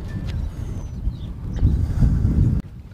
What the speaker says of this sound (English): As you can see, the wind is blowing.